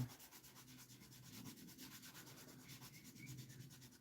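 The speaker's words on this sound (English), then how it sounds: "I'm sanding right up here to that edge, right behind the edge." A small finger sander buzzes against wood in a steady, rapid rasping rhythm, close up and fairly quiet, with no voices.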